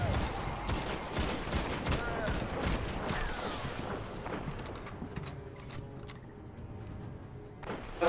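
Gunfire from the video game Destiny crackles in dense, rapid bursts with booming blasts, a continuous loud barrage throughout.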